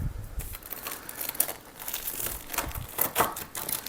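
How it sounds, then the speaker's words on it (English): A big knife sawing a chunk off the side of a homemade loaf, a close, steady crunching and crackling of crust that continues throughout. "I'm just going to cut a little chunk off the side here."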